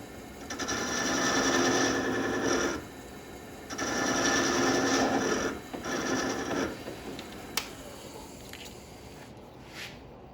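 A small cutting pass on a wooden tenon gives three close, steady whirring bursts of a few seconds each with short pauses between, then fades to a faint hum with a light click or two.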